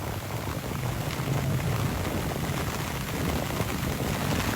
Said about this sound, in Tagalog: puting-puti yung paligid sa lakas ng ulan